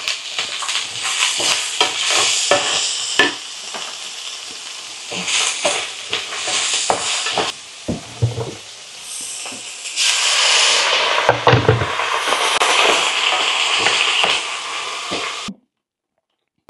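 Chicken adobo cooks in a pan with a loud, steady sizzling hiss that swells and dips over time, close by, with occasional clinks before it cuts off near the end.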